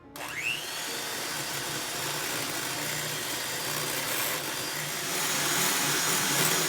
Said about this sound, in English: So, egg whites, cream of tartar. And we're gonna beat this until soft peaks form.